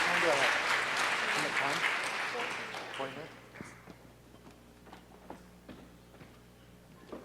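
Applause from a Hadoop technology conference audience fades out over a few seconds, leaving scattered soft taps and knocks in a quiet room.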